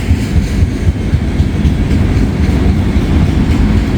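A freight train rolls by close and loud, its steel wheels clacking rhythmically over rail joints beneath a continuous heavy rumble. No one speaks.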